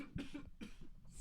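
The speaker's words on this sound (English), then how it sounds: "Coughing in the mic." A few quick, close coughs in a short burst, harsh and throaty, with brief gaps between them.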